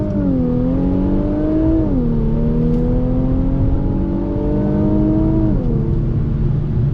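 A 2019 Infiniti Q50 Red Sport 400 engine revs steadily under load, its pitch rising and dipping as it accelerates through gears, loud and close with a smooth, continuous drone.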